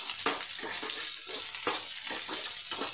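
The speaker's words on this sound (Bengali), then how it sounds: "আমি কড়াই দিয়ে দিলাম পেঁয়াজ আর কাঁচা লঙ্কা।" Onions and green chilies fry in mustard oil in a wok, giving a steady, close hiss of sizzling with repeated scraping strokes of stirring.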